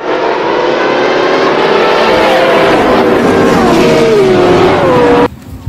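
Toy race car sounding a loud revving engine, pitch rising and falling through several throttle sweeps before stopping abruptly.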